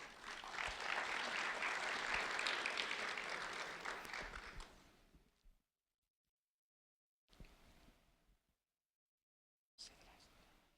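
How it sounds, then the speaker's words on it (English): An audience applauds for fifth grader Diane Hurtado at a sheriff's office recognition event: a loud, dense burst of clapping that fades away after about five seconds, followed by two brief, quieter snatches of sound. "a round of applause for Diane Hurtado"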